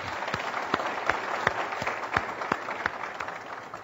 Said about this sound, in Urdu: گیو ہم اے بگ ہینڈ